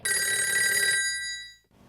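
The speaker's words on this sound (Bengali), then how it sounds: "এই সময় আবার কে ফোন করলো?" A telephone bell rings in one bright, trilling burst that holds for about a second, then fades away into quiet.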